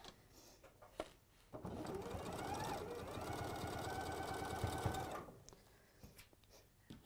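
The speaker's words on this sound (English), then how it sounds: "So I'm going to do a little bit of chain piecing now, sort of speed up the process." Sewing machine chain piecing quilt blocks, adding white corners, runs in one steady burst of several seconds, starting and stopping sharply with quiet moments either side.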